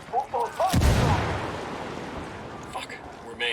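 A frag grenade goes off close by in Ghost Recon Wildlands with a deep boom and a rumbling tail, followed by faint scattered gunfire, while a voice speaks briefly before and after the blast.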